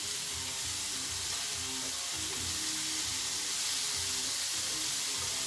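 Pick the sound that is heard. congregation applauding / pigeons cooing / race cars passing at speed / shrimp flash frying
shrimp flash frying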